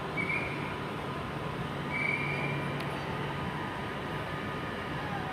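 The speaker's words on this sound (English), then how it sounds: "departing out is the 11:21 from Birmingham New Street to Northampton, 350-234, London Midland service" London Midland class 350 unit 350-234, the Birmingham New Street to Northampton service, pulls out of Coventry station with a steady rumbling rail roar and faint wheel squeal, moderately near and continuous, with no talking.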